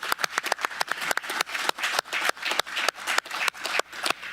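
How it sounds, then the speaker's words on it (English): Applause from the audience at a Sutter County Board of Supervisors regular meeting, a fast run of sharp overlapping claps sustained and fairly close for the whole stretch, with no talking over it. "let's give them a round of applause"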